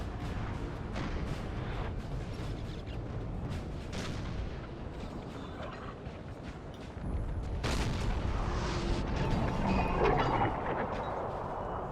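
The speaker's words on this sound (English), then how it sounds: "We've got 6 8-pounder cannons." Six 8-pounder cannons firing in a Napoleonic battle in Napoleon Total War, with distant booms and rumbling blasts rolling over continuous battlefield din, growing louder partway through.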